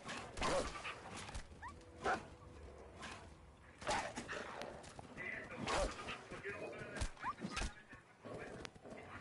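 Dogs in Fallout 4 barking, yipping and whimpering as they are kicked, a series of sharp yelps over busy game sounds.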